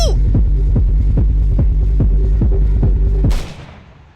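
In a Roblox version of the Buckshot Roulette video game, a steady throbbing pulse beats under a low hum, then a single loud shotgun blast cracks out and fades away.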